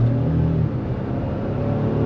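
A 2023 Ford F-150 XL pickup with the 2.7L twin-turbo V6, in sport mode, accelerating hard from inside the cab, a loud rising low engine drone and rumble, no talk.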